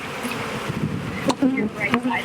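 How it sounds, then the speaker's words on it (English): Agitated honey bees buzz around a hive in a Texas bee yard, a continuous close droning hum with brief louder swells as insects pass near, voices speaking over it. "seems like the more bees you have, the madder they get"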